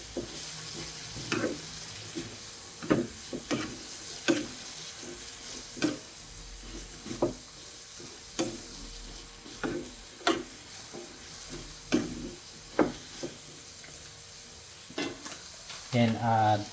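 A spoon stirs alugbati with shrimp and spring beans in a frying pan, with about a dozen distinct scraping strokes in a loose, regular rhythm over a steady low sizzle.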